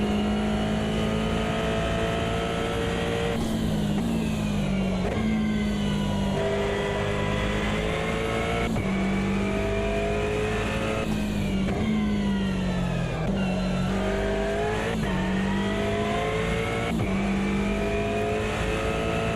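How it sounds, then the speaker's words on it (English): A late-1970s Porsche 911 racing in the AMS2 sim racing game, its engine revving and wailing continuously through repeated upshifts and downshifts, loud and close throughout with no voices. "Late 70s Porsche."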